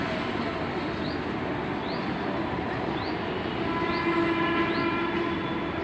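A train rumbles past Malakpet railway station in Hyderabad with steady, dense low noise and repeated high squeals from the wheels, continuous throughout with no voices.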